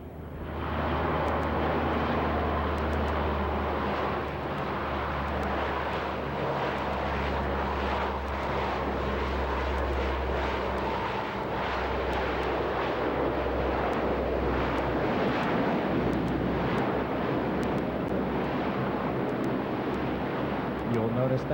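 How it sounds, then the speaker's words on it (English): A propeller aircraft lands at a 1992 airshow at Grissom AFB and reverses its propellers for a short-field stop, producing a loud sustained engine roar with a deep low drone that swells and then eases, a commentator speaking over it. "Demonstrating the short field landing capability, they will touch down and immediately reposition the propellers to full aft"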